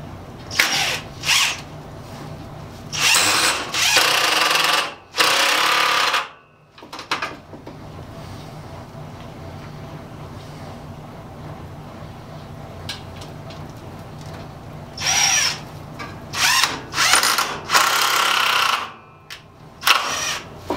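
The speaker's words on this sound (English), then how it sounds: "And run some screws down through it." A power drill driving screws down through a brace on a knockoff Workmate workbench, with several loud whirring bursts of varying length, separated by quieter stretches of handling noise, up close with no talk.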